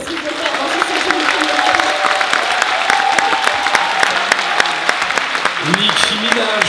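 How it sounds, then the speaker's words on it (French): An audience at a Japan Tours Festival conference applauding a dancer, steady clapping from a crowd throughout, with voices talking over it. "On applaudit Zell quand même"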